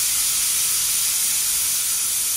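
Steady, loud hiss of steam venting under pressure from a pressure cooker boiling sweet potatoes, continuous and unbroken with no talking.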